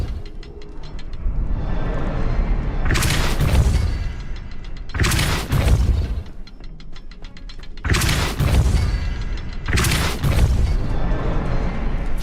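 A Depulso force spell cast in the video game Hogwarts Legacy, heard as four loud, separate blasts at roughly even intervals over a steady game background.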